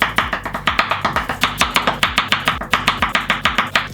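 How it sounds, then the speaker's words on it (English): Potatoes are cubed with a knife on a cutting board, a fast, even run of sharp chopping thuds, roughly five or six per second, close and loud with no talking. "just cube them up"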